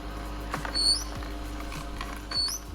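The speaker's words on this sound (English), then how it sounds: "the AUTO10 can make some pretty weird screeching noises" Kuvings AUTO10 juicer running with odd high-pitched screeching chirps, two rising squeals about a second and a half apart over a steady mechanical hum and faint creaking.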